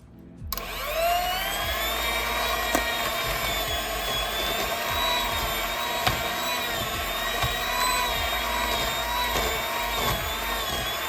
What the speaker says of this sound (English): I'm going to start by using this blender.